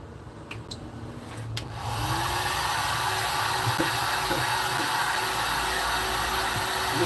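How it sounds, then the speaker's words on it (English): A hair dryer whirs on after a few faint clicks and keeps up a steady, loud rushing drone with a slight mechanical whine. "Cheers for letting us use your hairdryer, Paul."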